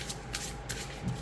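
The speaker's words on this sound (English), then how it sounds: "I have to be careful when I do this, when I side shuffle." A deck of oracle cards is side-shuffled by hand, the slightly bendy cards giving quick riffling flutters in several short bursts, close and fairly quiet, with no talking.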